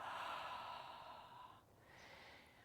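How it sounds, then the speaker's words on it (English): A slow, soft cleansing exhale through the mouth during a gentle yoga flow, breathy and close, easing off before a second, quieter breath. "Exhale through the mouth."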